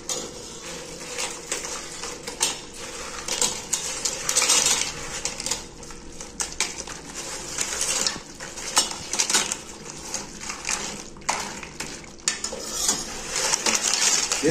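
Golden fried tortillas are stirred into simmering green salsa in a pot for chilaquiles, with repeated scraping and clinking of a utensil against the cookware and soft wet stirring, close and moderately loud, no talking.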